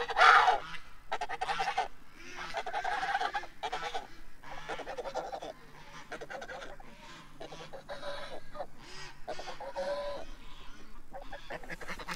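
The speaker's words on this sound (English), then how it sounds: "A big line of Canada geese above us." A long line of Canada geese flying overhead, honking continuously in overlapping calls at moderate distance, a steady chorus with no talk.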